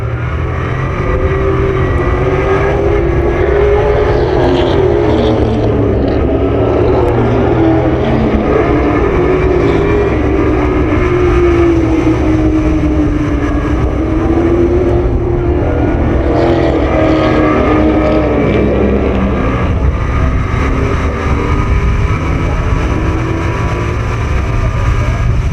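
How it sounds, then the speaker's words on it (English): Toyota Southwest Super Late Model race cars battling for the win at Willow Springs International Raceway, loud continuous engine roar with rising and falling pitch as the cars sweep past, no talk. "These two seem to be the fastest cars on track."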